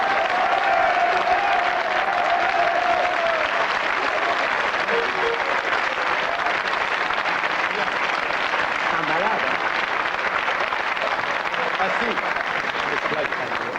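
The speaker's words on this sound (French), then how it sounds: "Il s'applaudit lui-même." A television studio audience applauds in a steady, dense wash of clapping that holds for about fourteen seconds, with a voice briefly audible at the start.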